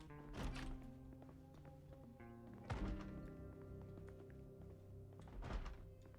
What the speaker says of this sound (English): Because I think everyone heard thumping.